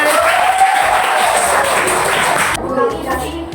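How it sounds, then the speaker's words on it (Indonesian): A classroom full of people clapping and cheering in a dense, steady wash that thins out near the end. "Oke, silakan tepuk tangan."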